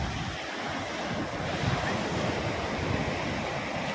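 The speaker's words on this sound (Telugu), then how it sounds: "పెద్ద అలలు వస్తుంది," Big ocean waves rolling in at a Chennai beach, a loud continuous roar of surf with swelling crashes, mixed with gusty wind buffeting the microphone and no talk.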